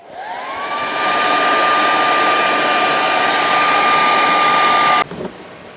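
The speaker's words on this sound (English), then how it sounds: "we'll use the hairdryer to warm up and loosen up the plastic" A handheld hair dryer blowing steadily to warm and loosen plastic, a loud, close, continuous whine with a faint rising pitch as it spins up, running about five seconds before cutting off abruptly into quiet room tone.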